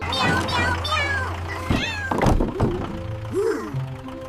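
A human voice imitates a cat's meow several times in a farm story setting, with rising and falling mewing tones and a few soft thunks between them.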